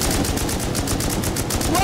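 Rapid automatic gunfire in the console version of Rust, a steady loud machine-gun rattle of evenly spaced shots running throughout.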